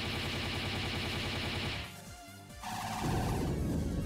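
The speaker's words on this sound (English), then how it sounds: "Explosion." An explosion in the Disgaea 2 video game, a dense crashing blast that holds loud and full for about two seconds, dips briefly, then surges back with heavy rumbling impact over game music.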